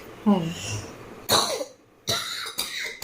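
Several harsh coughs break out close by, with a short voiced sound at the start and quiet gaps between the bursts.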